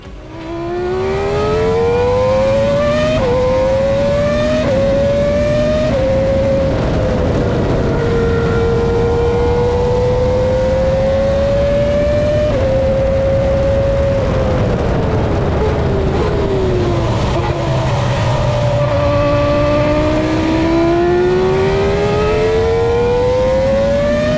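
A 2003 Ferrari Formula 1 car screams past under load, its high-revving engine note climbing and dropping through gear changes, loud and continuous with no talking.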